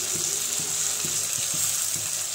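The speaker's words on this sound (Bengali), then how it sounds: "এখানে আমি পেঁয়াজ আর মরিচ তেলের উপরে ভেজে নিতেছি, হালকা করে একটু ভেজে নিব" Onions, chilies and potato fry in hot oil, giving a steady bright sizzle that runs throughout, with faint periodic scraping knocks from stirring.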